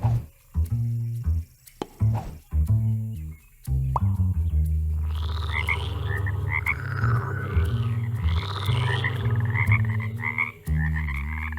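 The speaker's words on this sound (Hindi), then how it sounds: "ओह, समझ गया, ये तो मेंढक हैं।" Cartoon frogs croak together in a melodic, musical chorus, dense and loud through most of the stretch after a few sharp opening sounds, with no talk over it.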